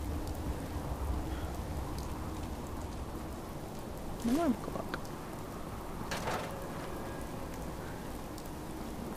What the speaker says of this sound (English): it would have to rain.